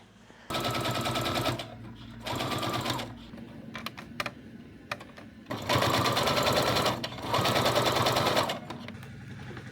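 A sewing machine stitches patchwork quilt pieces in four close, steady mechanical bursts, loud and near, with short pauses between runs.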